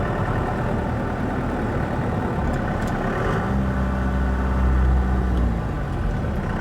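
Engine of a manual-transmission Ford F150 pickup truck, steady and close at first, then swelling into a deeper, louder rev midway that holds for a couple of seconds before easing back, with no talk.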